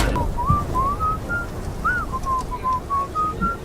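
A person whistles a wandering melodic tune in the video game Starfield, a clear, close, steady whistle that slides between notes over a low background hum, with no speech.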